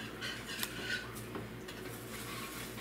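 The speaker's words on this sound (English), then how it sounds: "whisking the sauce up for the pot pie" Whisking a thickening sauce for a turkey pot pie in a pan, with soft, steady scraping and light metallic clinks of the whisk against the pan, fairly quiet and continuous with no talking.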